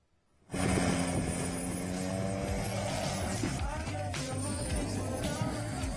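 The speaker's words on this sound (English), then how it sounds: "Shows a private helicopter crash that was caught on camera near the memorial there." A private helicopter near the Pearl Harbor memorial starts abruptly and then drones steadily in the foreground, its rotor and engine noise continuous, with a faint voice or two underneath.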